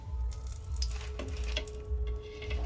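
Egg and onion batter frying in hot oil, a steady close sizzle and bubbling with faint clinks throughout.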